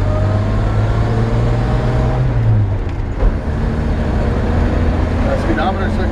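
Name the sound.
1950 Chevrolet 3100 truck driving, 216 engine, column shift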